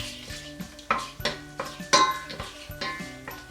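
Whole spices sautéing in a pan for a North Indian chicken korma: cinnamon sticks, star anise, cloves and green and black cardamom. A utensil clinks against the pan in several sharp, close knocks over a faint low sizzle.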